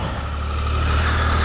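A motorcycle doing a small burnout on a wet tire, a steady close engine drone with a low rumble building slightly over a brief moment.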